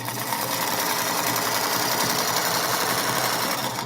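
A home sewing machine stitching steadily, its continuous fast mechanical whir filling the whole stretch at a loud, even level with no talk over it.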